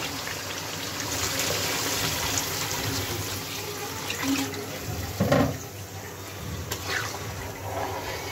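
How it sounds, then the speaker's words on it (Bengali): Water pours steadily into a pot of braised meat, a continuous splashing stream that runs for several seconds with a brief louder gush near the end. "মাংস কষানো হয়ে গেছে, এখন জল দিয়ে দিব।"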